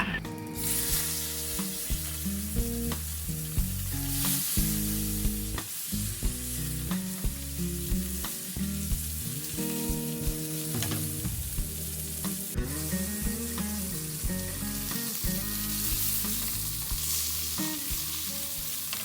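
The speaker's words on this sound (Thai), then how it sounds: "น้ำมันร้อนแล้ว ย่างเนื้อรอบที่สองเลยค่ะ" Beef steak sears in hot oil in a pan, giving a loud, continuous sizzle and crackle with occasional utensil scrapes, steady throughout with no voices.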